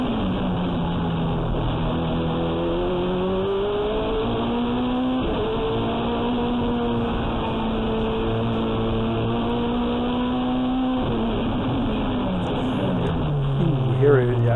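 A race car engine climbs and pulls hard between corners at a track event, its rising and falling drone holding strong throughout, with a voice talking over the engine noise.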